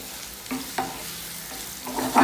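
Yardlong beans (borboti bhaji) stir-fried in a pan: faint, quiet sizzling with a few scraping stirs, the stirring growing louder toward the end, with no talking.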